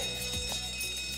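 An electronic alarm rings inside a hotel during a fire, a steady, fairly quiet repeating electronic tone with no voices over it.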